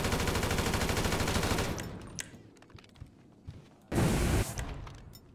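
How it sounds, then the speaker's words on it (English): Gunfire in the video game GTA 5, with a dense automatic burst rattling loudly for nearly two seconds, scattered single shots, then another heavy burst, close and without voices. "I hear guns."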